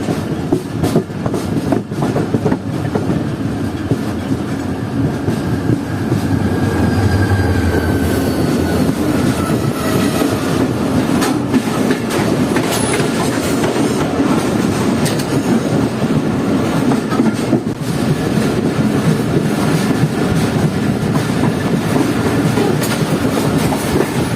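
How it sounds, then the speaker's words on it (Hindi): A Pakistani Business Express passenger train, hauled by a locomotive, pulls into Nawabshah railway station with a steady, loud rolling clatter of wheels over rail joints that lasts throughout, with no voices. "ट्रेन आ रही है नलसी के लोकोमोटिव के साथ"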